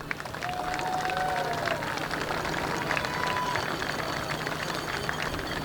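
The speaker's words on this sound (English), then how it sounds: "I'd like to give both teams a round of applause for just an excellent game today." A rugby crowd gives steady, sustained applause for both teams after the 2019 McCormick Cup senior men's final, an even wash of clapping from a distance with faint voices and a few whistles mixed in.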